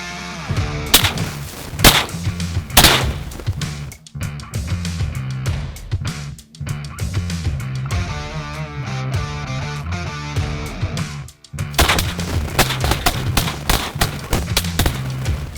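Shotguns fire repeatedly during a teal duck hunt, sharp loud blasts cracking one after another at close range over a dense, busy background.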